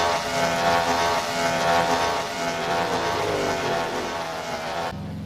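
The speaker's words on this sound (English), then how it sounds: "Drivers, start your engines." Derby cars in the Rigs of Rods driving game fire up for a St Louis Dome event, a loud, continuous roar of several engines droning together without a break and cutting off abruptly near the end.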